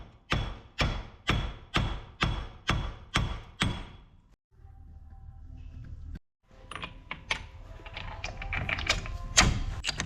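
A neutral-drop ratchet spun up and dropped onto a bolt during front wheel bearing work on a 2010 Ford Ranger: a run of about eight sharp, evenly spaced clicks, then a steady whirring spin, then busier clattering mechanical noise close by.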